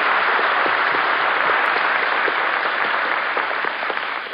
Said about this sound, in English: I think we ought to give a nice round of applause to our little actress